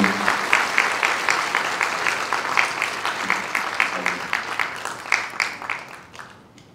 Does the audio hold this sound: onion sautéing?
no